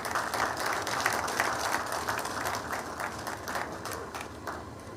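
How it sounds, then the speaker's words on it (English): An audience at a business summit applauds after a speech, a steady, even wash of clapping that lasts the whole stretch, moderately loud with no voices over it. "A better round of applause for Mr. Moses Siloko Siasia"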